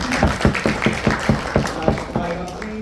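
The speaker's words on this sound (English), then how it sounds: "And please clap" Audience clapping at a business networking presentation, a short spell of steady, moderate applause from a small room of people.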